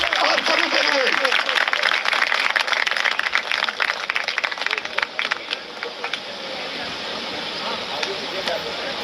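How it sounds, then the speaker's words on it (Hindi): Loud sustained crowd applause at a federation gathering following a speech, dense clapping filling the clip and easing slightly toward the end, with voices mixed underneath. "एक बार जोरदार तालियां आप सभी के लिए।"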